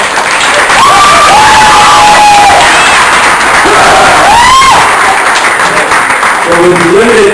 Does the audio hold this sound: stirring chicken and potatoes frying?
no